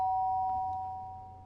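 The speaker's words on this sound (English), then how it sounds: "The sharp sound of the doorbell pierced my sleepy haze and pulled me back to the real world." A doorbell in the video game Danganronpa gives a single clear electronic chime that rings out and fades over a quiet background, with no voices.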